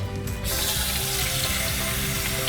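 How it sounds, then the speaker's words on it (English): Water from a tap pours steadily into a roasting pan holding a turkey and broth, a loud, close, continuous rushing splash that starts abruptly after a brief quiet moment and runs on without talk. "I didn't quite have enough there, so I'm adding some water."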